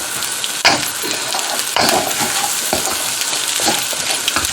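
Ingredients for fried rice sauté loudly in a pan, a spatula scraping and clanking against the metal every second or so over a continuous sizzle.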